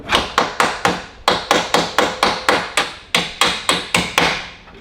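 A hammer taps a part into place on a Ferrari engine, with about twenty sharp, evenly spaced metallic strikes in a steady rhythm, close and loud, with no talking.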